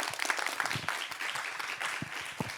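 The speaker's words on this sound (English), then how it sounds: "A round of applause for our guests." Audience applause for the guests at the close of an academic panel, a short burst of scattered clapping from a modest crowd, fairly quiet and uneven, lasting just a couple of seconds.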